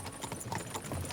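Horse hooves clip-clop steadily along a road in the video game Kingdom Come Deliverance 2, a continuous busy rhythm of hoofbeats close by with a faint background bed.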